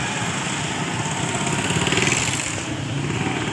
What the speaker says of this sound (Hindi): बाइक्स वगैरह आ रही,